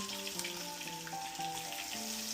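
Salmon fillets pan-searing with garlic, thyme and pepper give off a steady, close sizzle that runs throughout, with sustained musical tones underneath and no talking.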